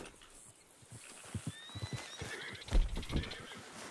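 A horse whinnies in Red Dead Redemption 2, a thin rising neigh amid snorts and hoof clops on the ground, fairly close, with no talking.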